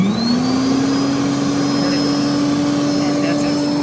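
An electric lawn dethatcher scarifier motor spins up and settles into a steady, loud, continuous whine and hum, running close by without pause.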